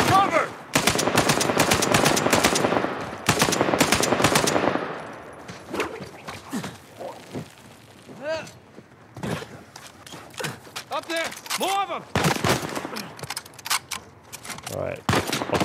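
Heavy gunfire from the Uncharted 4 video game, with dense bursts and rapid shots in the first few seconds, then scattered sniper and rifle shots and game noise over the rest, with some voices mixed in.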